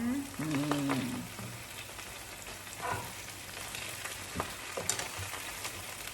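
Wild garlic stir-fried in a hot pan with oyster sauce, giving a steady close sizzle with occasional stirring scrapes throughout and a brief voice near the start.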